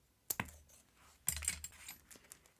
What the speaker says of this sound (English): cut these wires